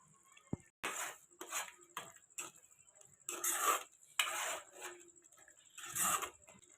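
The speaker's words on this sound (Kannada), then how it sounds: "ಈಗ ಪನ್ನೀರ್ ಕ್ಯೂಬ್ಸ್ನ ಹಾಕೋಣ." Paneer cubes being dropped into dhaba-style paneer korma in a cooking pot give soft clattering splats and utensil knocks in several separate bursts against a quiet kitchen background.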